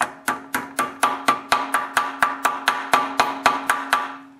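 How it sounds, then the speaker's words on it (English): A brass hammer taps a key into a small engine crankshaft being converted from 3/4 inch to 1 inch, in a rapid, even series of about sixteen sharp, ringing metallic strikes, loud and close with no talk. "I only use a brass hammer to put the key in"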